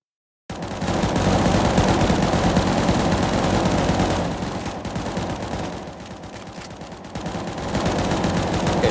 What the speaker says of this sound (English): I want everyone to fire.